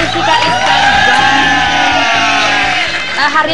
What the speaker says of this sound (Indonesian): Tepuk tangan dong untuk Jessica Iskandar.